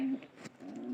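Pigeons cooing at close range, a low steady murmuring coo that swells at the start and again through the second half, with a faint soft rustle between calls.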